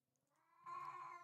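A cat meows, a short drawn-out cry that swells in loudness midway and holds near the microphone, with no talking over it.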